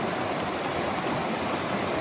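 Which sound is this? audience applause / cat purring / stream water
stream water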